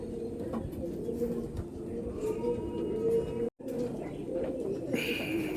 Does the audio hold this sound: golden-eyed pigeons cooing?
yes